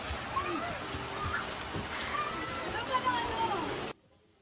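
Rain falls as a steady, even patter over about four seconds and then cuts off abruptly near the end.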